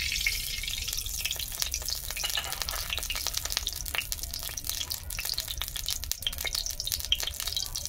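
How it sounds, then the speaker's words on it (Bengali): Mustard oil crackling and sizzling in a hot wok, a steady dense hiss with scattered pops and spits running throughout, close and fairly loud, no voices. "কড়াতে সর্ষের তেল দিয়ে দিচ্ছি"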